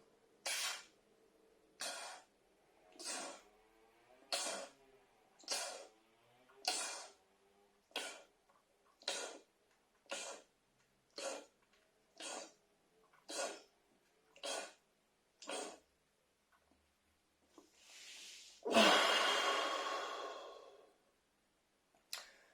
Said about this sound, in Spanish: Y ahora vamos a seguir respirando.